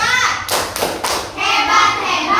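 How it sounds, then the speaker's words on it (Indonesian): A group of children in a classroom claps out a short rhythmic 'tepuk hebat' cheer, a few sharp clap bursts close by with young voices chanting along. "Oke, kita tepuk hebat buat teman kita. Tepuk hebat."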